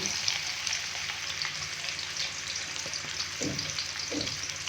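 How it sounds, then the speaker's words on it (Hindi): About 300 grams of finely chopped onions, three large ones, fry in hot oil for a bhindi keema, giving a continuous close sizzle with a few low stirring scrapes. "अभी हम इसके अंदर 3 अदद बड़े साइज़ के बारीक कट किए हुए प्याज ये डालेंगे"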